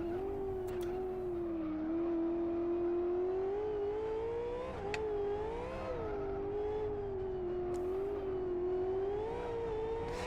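A V8 race car engine in the racing game Live for Speed holds a steady, loud, droning rev that rises and dips slightly in pitch, heard close and continuous throughout with no talk.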